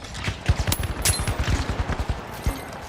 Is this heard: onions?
no